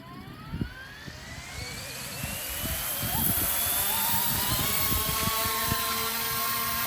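An E200 UH-60 Blackhawk scale RC helicopter spools up and lifts off, its rotor whine rising steadily in pitch and loudness. Rhythmic blade chop thumps underneath throughout.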